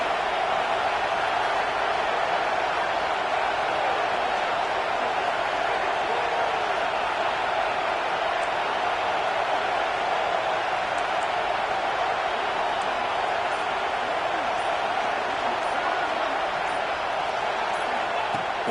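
Football stadium crowd at a rain-soaked UGA versus LSU game, a broad steady roar filling the whole stretch at a constant loud level with no clear breaks.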